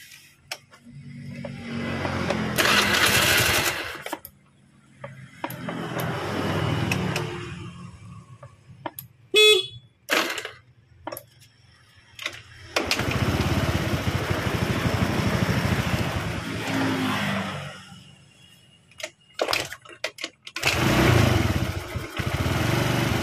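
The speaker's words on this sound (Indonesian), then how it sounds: "Oke, saya nyalakan dulu untuk motornya." A carbureted motorcycle engine, Jupiter MX type, starts up in several bursts and settles into a rough idle, close and loud, with the revs rising and falling and quiet gaps between runs.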